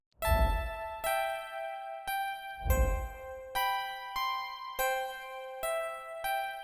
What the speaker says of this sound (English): I found these little plucks off of Serum.